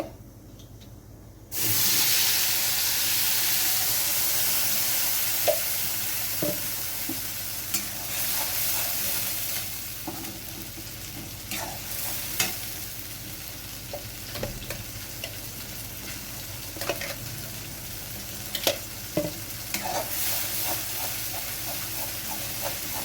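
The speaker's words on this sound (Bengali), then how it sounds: "এবার আমি পেস্ট করে রাখা মশলাটা এতে অ্যাড করে দেব।" Spice paste hits hot oil with black cumin in a pan, bursting into a loud hiss that settles into steady frying, broken by repeated scraping stir strokes, close up and without speech.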